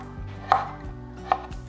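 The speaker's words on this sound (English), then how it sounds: "I also have some small tomatoes that we can chop up as well." A knife chops small tomatoes on a board. Two crisp, distinct cuts land close and clear in a quiet kitchen, with no talking.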